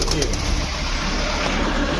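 Pigeons in a pigeon shop, including Jhak Gola and Teddy Fat birds, cooing under constant loud background noise, with soft bird calls and a brief burst of cooing near the start.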